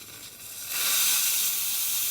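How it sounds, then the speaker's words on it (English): A loud, steady steam hiss from a La Pavoni espresso machine's steam wand that rises sharply and then holds strong and continuous, close by with no talking. "Nice strong steam."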